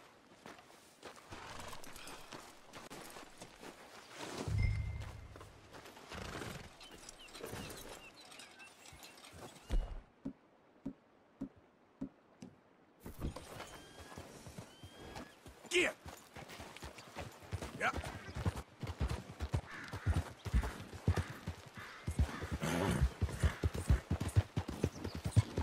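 Hoofbeats of a horse clip-clop repeatedly in Red Dead Redemption 2, with a whinny early on, amid game ambience, a short lull and a voice speaking over them.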